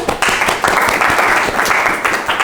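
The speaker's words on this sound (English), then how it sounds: "Clap for her." A classroom audience applauds a student after she reads her paragraph, a short burst of dense clapping that stays loud for just over two seconds.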